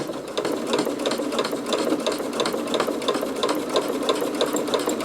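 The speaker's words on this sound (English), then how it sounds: "I'm going to sew across the bottom again." A sewing machine runs steadily across the bottom seam of a bag made from upcycled napkins, a continuous close, fast mechanical whirring with rapid needle clatter and no talking.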